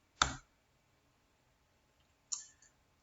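Two crisp computer mouse clicks, about two seconds apart, land in near silence, quiet and close.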